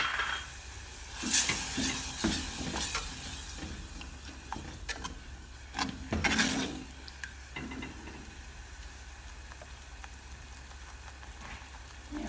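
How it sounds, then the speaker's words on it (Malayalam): Tamarind water poured into a hot pan for garlic rasam, a sizzling splash followed by softer bubbling and light stirring clicks. "നമ്മൾ പിഴിഞ്ഞ് വെച്ചിരിക്കുന്ന പുളിവെള്ളം ഒഴിച്ച് കൊടുക്കാം"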